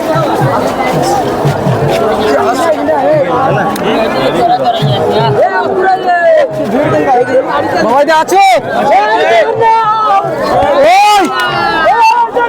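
Dense, packed crowd at the Puri Rath Yatra festival in 2025 on a cloudy, rainy day: loud close babble of many voices with shouts and chants, continuous throughout, with people talking near the microphone.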